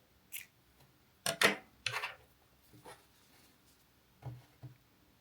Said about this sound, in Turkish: yeteri kadar ip bırakıp kesiyorum.